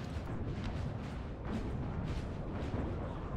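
Distant artillery fire in Napoleon Total War, a 4v4 battle with massed French and Spanish guns, heard as a continuous low rumble of overlapping booms with no distinct single shots.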